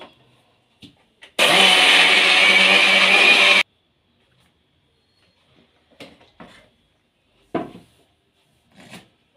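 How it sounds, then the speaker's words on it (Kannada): A mixer grinder whirs loudly for about two seconds as it grinds soaked rice and coconut into neer dosa batter, then cuts off, leaving a few faint clicks and knocks. "ಈಗ ಮುಚ್ಚಳ ಹಾಕಿ ರುಣ್ಣಿಗೆ ರುಬ್ಕೋಬೇಕು"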